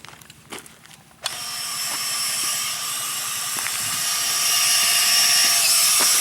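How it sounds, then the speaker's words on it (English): An 18-volt cordless drill starts up and bores into a hay bale to take a sample, running as a loud, steady whine that builds and keeps going after a few quiet clicks at the start. "We all use a high-powered 18-volt drill, so it drills in there good and gets it in all the way"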